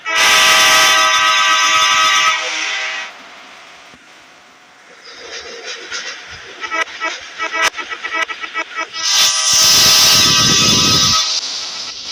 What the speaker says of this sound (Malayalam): അങ്ങനെ നമ്മൾ ട്രെയിനിൻ്റെ അകത്ത് കയറിയിരുന്നു